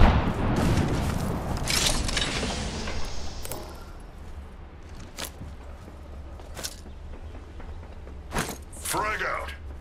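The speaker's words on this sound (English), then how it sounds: "Throwing frag." Frag grenade thrown and bursting in Apex Legends: a loud blast with broadband crackle in the first seconds, followed by scattered sharp cracks and shots over steady battle noise, with voices talking throughout.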